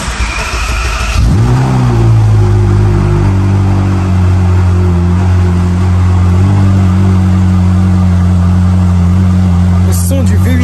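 A Ferrari 458 Mansory's naturally aspirated V8 blips sharply, then settles into a loud, steady rumbling idle close by, with a short click near the end.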